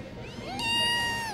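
A single drawn-out cat meow, rising and then held, close and clear over faint background noise.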